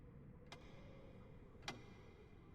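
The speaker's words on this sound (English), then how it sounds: "we can probably hear the grandfather clock clicking in the room next door in the storage room" A grandfather clock ticking in the next room, two faint, sharp ticks about a second apart over a quiet, low background hum.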